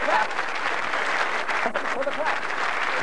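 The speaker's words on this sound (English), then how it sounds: "Come on, give him a bit of clap." A studio audience on The Late Late Show in 1998 applauds for a guest, a full, continuous wash of clapping with voices underneath.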